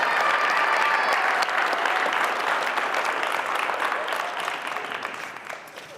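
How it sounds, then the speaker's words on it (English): Sustained audience applause at a high school signing day ceremony, loud and dense from the start before gradually tapering off toward the end. "Let's give Emmy a round of applause."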